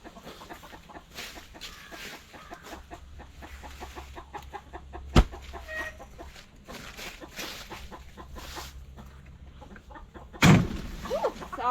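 Backyard hens cluck and chatter continuously in a steady, busy rhythm close by, with a couple of sharp louder bursts from the flock and little other sound.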